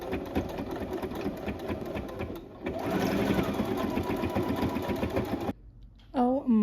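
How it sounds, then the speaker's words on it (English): A sewing machine runs an overlock stitch around a curved seam on a beginner's bag, its steady mechanical whir close and loud for most of the clip, with a short pause midway before it cuts off and a voice rises at the end. "doing this overlocking stitch on this curve is incredibly frustrating"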